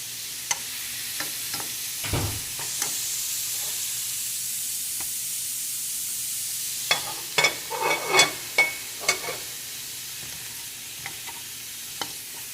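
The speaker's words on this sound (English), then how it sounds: "So I wanted to make sure you could hear that sizzle" Vegetables sauté in a hot pan with a steady, close sizzle that runs throughout, broken by several clattering stirs of a utensil against the pan in the middle stretch.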